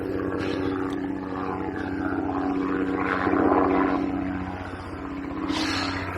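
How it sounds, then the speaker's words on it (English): Helicopter passing over the Kent countryside, a steady rotor and engine drone that swells louder at the midpoint and fades, heard from the ground with no talk. "So, we've got a helicopter coming."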